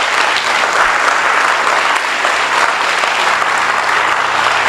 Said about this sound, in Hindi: क्या हम सब मिलके खड़े होके यीशु के लिए ताली बजा सकते हैं?